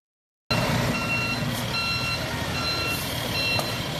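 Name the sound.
big truck beeping as it prepares to turn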